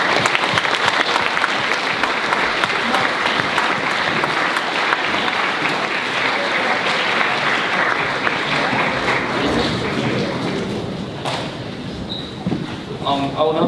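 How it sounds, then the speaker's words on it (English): An audience at a school speech day junior awards ceremony claps in sustained, loud applause that tapers slightly near the end. "Please give a round of applause for the academic award."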